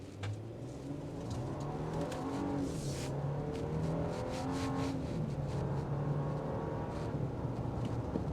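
The engine of a 2025 Nissan Armada Platinum Reserve SUV revs up steadily during a test drive, its tone rising and stepping through gear changes, heard as a fairly quiet but constant drone from inside the cabin.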